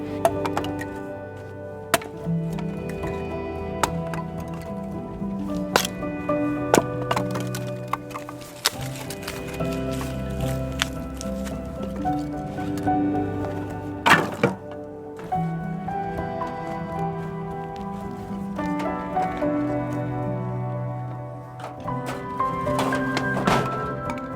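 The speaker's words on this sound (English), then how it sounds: "I'm gonna prepare some wood, tiny wood that is used to make a fire." Small kindling wood split for a fire outdoors in a snowy Swedish winter, with sharp chopping thunks and cracks at irregular intervals, close and loud, over a steady background of music.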